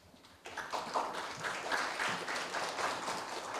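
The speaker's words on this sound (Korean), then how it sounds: "다시 한번 큰 박수 부탁드립니다." Audience at a Korean university campus-town startup fair signing ceremony bursts into applause, a steady patter of many hands clapping for a few seconds.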